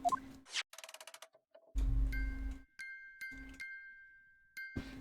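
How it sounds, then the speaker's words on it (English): In the Ace Attorney game, a music box plays a sparse series of chiming notes in short groups with pauses, tapping out Morse code, close and clear with a few low game sounds between. "Just what relevance do you propose this woeful chiming has on this case?"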